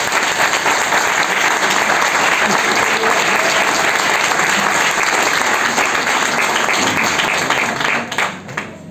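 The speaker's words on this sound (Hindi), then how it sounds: "एक बार जोरदार तालियां बजाओ यार" Loud, dense audience applause at a seminar, a continuous roar of many hands clapping for about eight seconds before thinning out at the very end.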